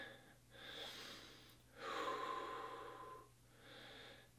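Heavy, audible breaths follow a set of fast kicks in a workout: a short exhale, then a long rasping breath, then another softer one, close and alone, with a faint steady hum beneath.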